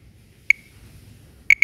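A phone's timer-ended alert tone: a single short electronic beep followed a second later by two quick beeps, clear but moderately quiet over a faint low background hum.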